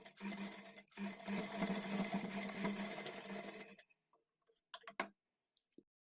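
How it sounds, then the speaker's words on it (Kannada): Sewing machine stitching the folded edge of a blouse, a steady fast mechanical whir running for about four seconds before stopping, followed by a few faint clicks and handling taps. "ಈ ಕಡೆ ಎಡ್ಜಲ್ಲಿ ಎಕ್ಸ್ಟ್ರಾ ಬಿಟ್ಟಿರೋ ಕ್ಲಾತನ್ನು ಒಳಗಡೆಗೆ ಈ ಥರ ಫೋಲ್ಡ್ ಮಾಡಿಕೊಂಡು ಸ್ಟಿಚ್ ಮಾಡ್ಕೊಳ್ಳಿ"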